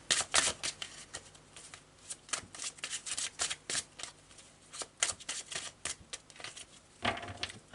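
Tarot de Marseille cards are shuffled and drawn in a quick, close series of crisp flutters and snaps. The sharp bursts of rustling repeat irregularly, with no talking.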